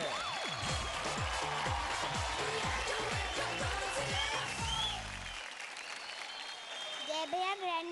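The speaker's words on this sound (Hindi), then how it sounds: "जोरदार तालियां हो जाए मास्टर मुदस्सर के लिए।" A television dance show audience applauds for a young performer. Dense, steady clapping from the crowd mixes with music and swooping sound effects, and the clapping thins out toward the end.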